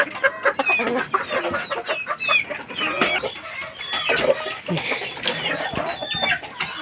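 Several chickens clucking and squawking close by, a busy overlapping chorus of short calls with no talking.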